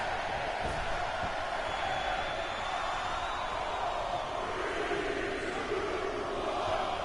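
A roaring arena crowd in the WWE 2K20 wrestling video game fills the whole stretch as a steady, dense wash of cheering, with match commentary voices running faintly underneath.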